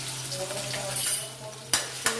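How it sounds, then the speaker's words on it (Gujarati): Crushed ginger, green chili and garlic go into hot oil in a kadai, giving a soft steady sizzle over a low hum, with two sharp utensil clinks near the end. "તેલમાં આપણે આદુ મરચાં અને લસણને ક્રશ કરેલા છે એડ કરી દઈશું।"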